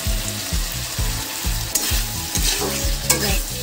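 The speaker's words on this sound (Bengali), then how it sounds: "এবার আমি টমেটো কুচি দিয়ে দিচ্ছি।" Chopped tomato and slit green chilies frying in oil for Bengali prawn curry, a loud close sizzle with a rhythmic run of spatula scrapes and clatters against the pan, a few sharper knocks standing out.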